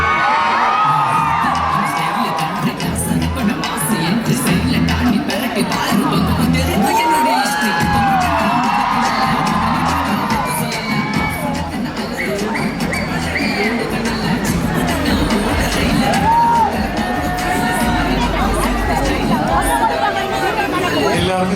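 A large crowd cheers and whoops at a film pre-release event, its roar holding steady and loud throughout, thick with voices, chatter and shouts.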